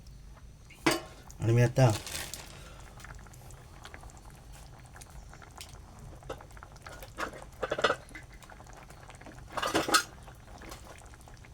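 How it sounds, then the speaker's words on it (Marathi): A spoon stirs cooking food in a metal pot on the stove, with a few sharp clinks and scrapes over a soft bubbling background, and someone speaks briefly between them. "परत आपण ते ढवळून घेऊ."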